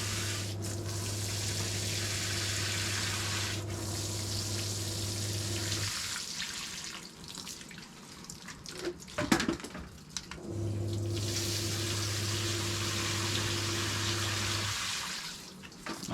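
Liquid fertilizer water gushes steadily from a watering setup, a loud continuous rushing flow with a steady hum that stops for several seconds, with some clunks and handling noise, then starts again.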